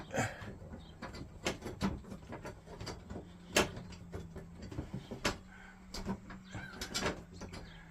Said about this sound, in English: I'm going to put the bezel on right here. There you go. I'm just going to start the screws.